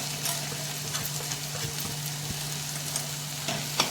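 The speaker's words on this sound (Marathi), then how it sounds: "मस्त असं परतून घेऊया।" Boiled banana flower being sautéed in an onion-tomato masala, with a steady low sizzle and light scraping and tapping from the spatula, close by, and no talking.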